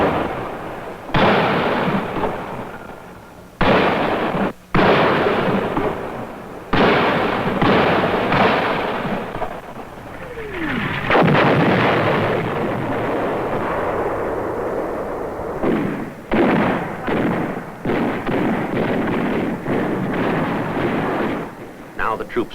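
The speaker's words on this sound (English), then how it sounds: "The command decision is to call for artillery fire support to dislodge them." Vietnam War artillery fire from 1967 booms in a series of loud, heavy blasts with long rolling rumbles, some bursts close together and others spaced apart, with no talk over them.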